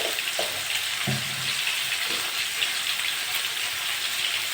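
Pointed gourd (potol) fries in hot oil with turmeric, a dense, steady hiss and crackle running throughout, with a few soft knocks and stirs near the start.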